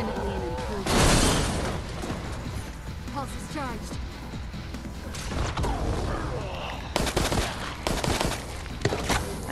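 Bursts of rapid gunfire crack through Resident Evil Resistance, with several volleys and loud impacts spread across the stretch, heavily overlapped by talking players.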